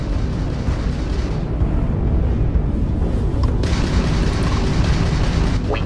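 Weapons fire and explosions from a Crimson Fleet pirate ship in Starfield space combat, a dense continuous rumble of booms with a few sharper bursts near the end, no talk.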